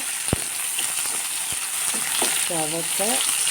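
Onions sauté in a pan for tomato thokku, a close, steady sizzle broken by a couple of sharp knocks and brief stirring scrapes, with a short tonal squeak near the end.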